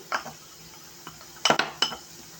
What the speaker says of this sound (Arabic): نحط معلقه خل واحده ونقلب بقى الخلطه دي تقليبه حلوه